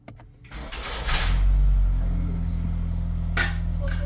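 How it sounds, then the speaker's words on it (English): A Ford Escape starting up after being taken out of brake maintenance mode: a short click and whir, then the engine catches and settles into a steady low idle, with a brief chime-like tone near the end. "Now we're going to turn the car on."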